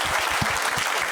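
A studio audience claps through a game-show panel broadcast, dense and loud applause sustained for about a second with no talk over it.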